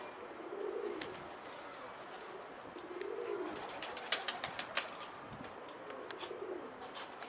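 Pigeons coo in soft low repeated phrases near a rooftop coop, with scattered brief higher chirps and wing sounds over a quiet background.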